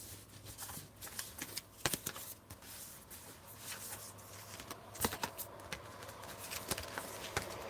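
Oracle cards shuffled by hand in a quiet room, a steady run of soft papery riffles and flicks with a few sharper slaps, close and fairly faint, with a low hum beneath.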